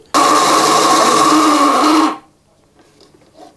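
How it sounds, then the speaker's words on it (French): Electric food chopper whirs loudly and steadily for about two seconds while chopping an onion for a rabbit terrine, then cuts off abruptly into near silence. "on va déjà hacher une première fois ceci"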